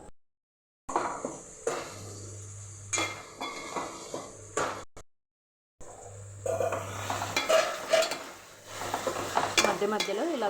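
Cauliflower curry being stirred in a pan, with repeated close scraping and clinking of a spoon against the metal over a faint sizzle, broken by short pauses.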